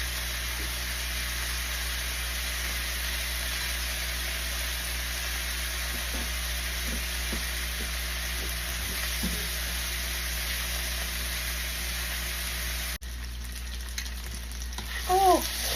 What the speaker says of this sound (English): I am now sauteing my vegetables. I'm using tomatoes, onions, bell peppers.